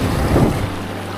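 Steady wind buffets the microphone at a coastal fishing spot, a continuous low rushing roar over a short stretch with no voices.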